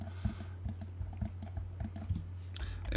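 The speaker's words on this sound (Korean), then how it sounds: "FILTER 입력하고 엔터 클릭." Rapid keystrokes on a computer keyboard entering an AutoCAD FILTER command, ending with Enter and a mouse click: a close, irregular run of light tapping clicks, with a denser burst near the end, over a steady low hum and no speech.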